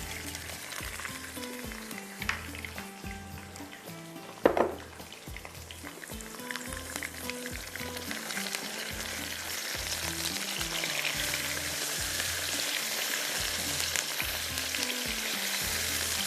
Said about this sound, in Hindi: चिकन को थोड़ा सा भूनेंगे